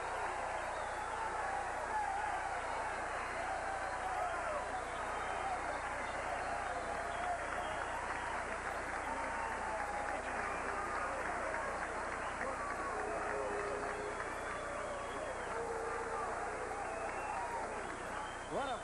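A boxing crowd roars steadily after a fight ends with a combination to the head, the cheering and applause a dense, continuous wash of voices from start to finish.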